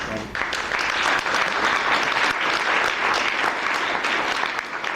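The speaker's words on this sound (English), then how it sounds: "It's good to get all the applause now" Sustained applause from a large crowd at a space advocacy conference town hall, steady and dense clapping for the whole stretch.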